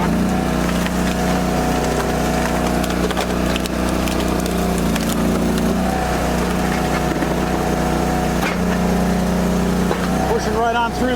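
A big Eastonmade 22-28 box wedge splitting large wood rounds, driving through knots under a loud, steady engine drone, with creaking and cracking wood bursts rising near the end.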